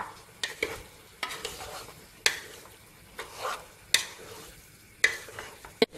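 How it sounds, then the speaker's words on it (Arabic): Beef tripe frying in a sauce in a pan, a quiet sizzle broken by repeated sharp utensil scrapes and knocks against the pan at irregular intervals, close and with no talk. "بعد اللي تقلات مليح هاد الدواره كاع في لاصوص"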